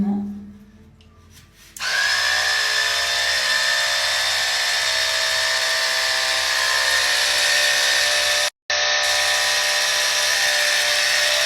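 An electric split-end hair trimmer switches on after a quiet start and runs with a steady, high-pitched motor whine close by, holding constant with one brief cut-out before resuming.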